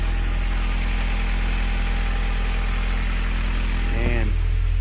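A turbocharged Honda H22 engine idles steadily, a constant low mechanical drone with a brief rising blip near the end.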